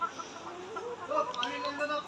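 Layer hens cluck softly in a steady background chorus inside an egg-laying poultry shed, a shed's worth of birds murmuring at moderate distance with no voices over them.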